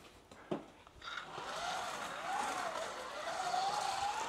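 Four-wheel-drive RC Volkswagen Golf with a 3D-printed body, driving on a surface. After a couple of knocks, a continuous whiny motor and drivetrain buzz wavers up and down in pitch as it speeds and slows, at moderate distance.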